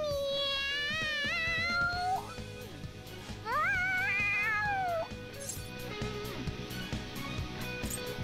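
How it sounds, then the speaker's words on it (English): An excited cat meows in a video game, Persona 5 Royal: a few long, rising and falling meows that are close and loud, with game sounds and music underneath. "The cat's acting awfully excited."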